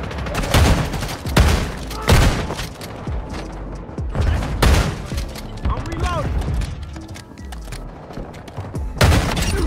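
Shotgun blasts from the Warzone Mobile video game boom repeatedly in a chaotic firefight, loud close shots mixed with mechanical clatter and other gunfire, while a player talks over them.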